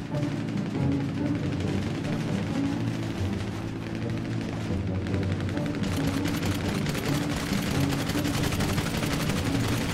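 Rapid, dense gunfire in the video game GTA V crackles continuously for the whole stretch, loud and steady, with bursts overlapping into a sustained barrage.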